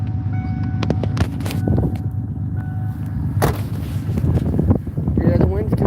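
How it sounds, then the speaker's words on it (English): Wind gusting across a frozen Michigan lake with three to four inches of ice, a steady roaring rush buffeting the microphone, with a few sharp knocks and brief voices in the background. "the wind's kicking up quite a bit"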